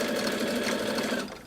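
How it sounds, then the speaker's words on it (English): A sewing machine runs steadily through thick layers of fabric for an idol costume dress, a continuous close mechanical whir that holds level and then eases off near the end. "Is the sewing ASMR enjoyable or no?"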